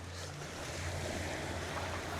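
Sea waves surging and splashing along a shoreline, a dense continuous wash of water with wind rumble buffeting a close microphone, no voices.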